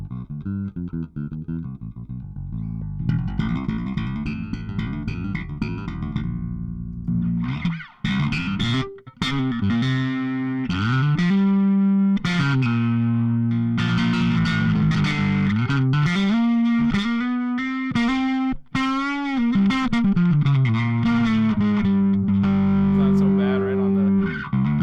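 A Fender American Professional II Jazz Bass plays through an amp, with sustained low notes, slides and a run of plucked phrases, loud and close with a touch of effect coloring the tone.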